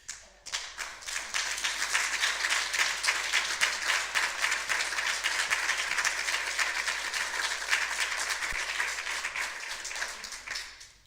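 Sustained applause from a crowd at a city council meeting fills the room, many hands clapping densely and steadily before tapering off at the end.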